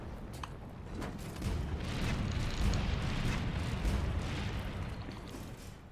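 A weapon firing in Monster Hunter World, a dense rumbling blast that swells into a sustained, heavy roar with scattered cracks, loud and continuous without talk.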